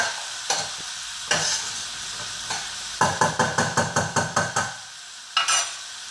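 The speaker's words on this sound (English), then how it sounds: "I'm gonna stir it around. I'm gonna make a little stir." A spoon stirring cabbage soup in a pot, with a few scattered scrapes followed by a quick run of about eight rhythmic clinking strokes and one final scrape, close and fairly quiet with no talk.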